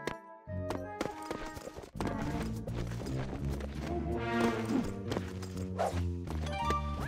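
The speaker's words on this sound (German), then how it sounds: "Reitet das Pferd und versucht, der Schnellste zu sein." Horse hooves clip-clop at a brisk riding pace in a Toy Story 3 video game race, mixed under bright, busy carnival-style music.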